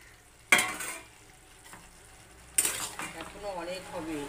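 Potatoes added to a home-cooked Bengali loitta fish dish are stirred in a pan, with two sharp scraping, sizzling bursts close by over a low background hiss.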